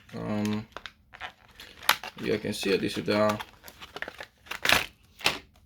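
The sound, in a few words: plastic packaging crinkling while unboxing NVMe SSD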